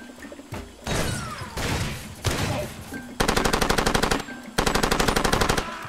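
Automatic gunfire in the video game Far Cry 2, heard as loud sustained bursts, then two long rapid rattling volleys with regular shot pulses, with no talk over them.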